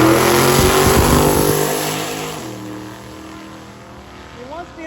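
A twin-turbo LS-swapped Duster drag race car making around 1,000 horsepower roars loudly at the drag strip, its engine note fading as it pulls away into the distance, with someone talking over it.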